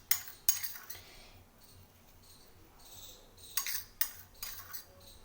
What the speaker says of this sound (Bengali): এইভাবে আমি লবণ আর হলুদ খুব ভালো করে মিশিয়ে নেব